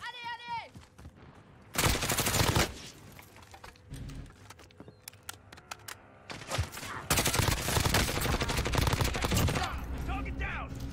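Bursts of rapid video game gunfire crackle loudly in several volleys, broken by quieter stretches with clicks and a brief electronic chirp.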